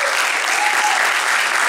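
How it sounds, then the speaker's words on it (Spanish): Dense audience clapping for a young singer at a live concert, a steady wash of applause with no break over the short span. "Un aplauso para la chiquilla, qué lindo canto"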